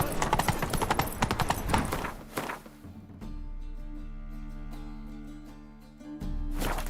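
The horse Roach gallops in a video game, rapid hoofbeats pounding close and loud for a couple of seconds before giving way to a steady droning background, with hooves returning briefly at the end.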